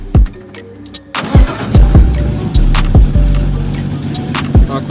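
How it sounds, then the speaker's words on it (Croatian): A BMW E35 drift car with a leaky, holed exhaust cranks and catches after about a second, then runs with loud, regular thumping exhaust puffs and pops close by, repeating roughly every half second. "Ako zanemarimo zvuk izduva koji izgleda pomalo bušan, auto radi mnogo pravilnije."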